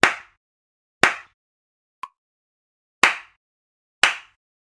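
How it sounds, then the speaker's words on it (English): High hand claps struck with flat palms, four bright crisp cracks at even one-second intervals with a faint tick between, close up and alone in quiet. "The second sound is the high clap."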